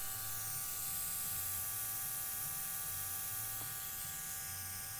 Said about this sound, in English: I'm just going to spray it until I spray and I don't see that color no more.